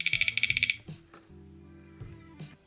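Three quick, bright beeps come from a Matt Hayes Adventure fishing bite alarm at close range. A low electronic hum and a few faint clicks follow.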